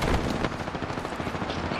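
Rapid automatic gunfire in the battle royale video game Apex Legends, a loud continuous burst of shots with a dense, booming texture throughout.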